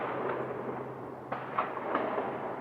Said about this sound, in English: They're just going crazy at the gun range today.